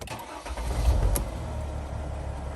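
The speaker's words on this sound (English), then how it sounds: "let's go ahead and start this van up" Mercedes Sprinter van engine cranking and catching, a low rumbling start that settles into a steady idle, heard close up.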